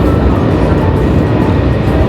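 Inside a Paris-to-Munich TGV high-speed train running at speed, a loud, steady low rumble and rushing roar fills the carriage without a break or any voices.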